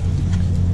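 A Dodge Scat Pack's engine idles close by with a steady, loud low rumble in a brief, unbroken stretch.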